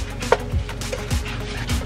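Food being chopped on a cutting board in a home kitchen, with a few sharp knife strikes spaced roughly half a second apart over a low background hum of meat sizzling nearby.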